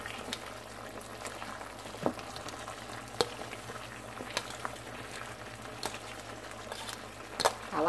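Beef and broccoli bubbling in broth in a pan, a soft continuous simmer broken by several sharp clinks and scrapes of stirring spoons.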